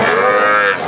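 A red Sindhi breed calf gives one loud, close, drawn-out moo at a cattle market, clear and alone.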